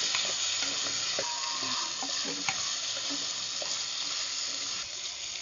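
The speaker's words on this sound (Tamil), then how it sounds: "நல்லா வதக்கி விட்டுக்கலாம்." Steady sizzling of eggplant and curry leaves frying in a pan, with occasional scrapes and clinks of a stirring utensil, close and continuous.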